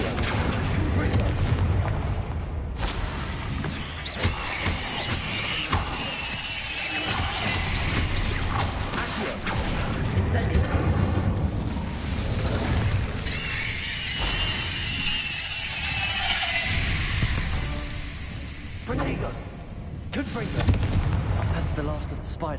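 Confringo fire spell blasts boom and crackle in Hogwarts Legacy combat, with repeated explosive bursts and mechanical clatter over a dense game soundscape, while a voice speaks intermittently.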